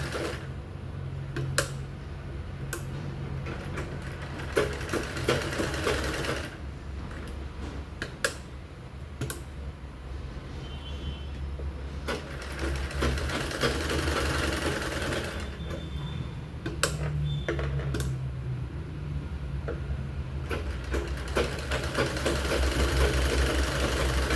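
A sewing machine stitches a princess-cut boat neck blouse seam in quick runs of rapid ticking and whirring, pausing between bursts with small clicks, close and moderately quiet.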